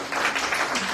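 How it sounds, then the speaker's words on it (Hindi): An audience at a Bhagavat Katha gathering in Ho Chi Minh City claps for Roopchand ji, producing a dense, steady burst of many hands that fills the whole moment with no voices. "एक बार रूपचंद जी के लिए सब लोग तालियां।"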